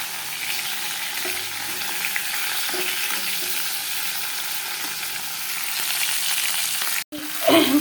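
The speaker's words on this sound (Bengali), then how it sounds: "মাথাগুলো মোটামুটি ভাজা হয়েছে, আরও যে কটা আছে এই কটা ভাজা দিয়ে নেবো" Fish heads fry for muri ghonto in a pan of hot oil, giving a steady, dense sizzle up close, with a sharp clatter near the end as more pieces are added.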